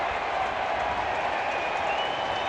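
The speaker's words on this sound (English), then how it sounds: "Crowd is cheering." Baseball crowd cheering after a home run at Wrigley Field, a loud, dense, continuous roar from a packed stadium with no break.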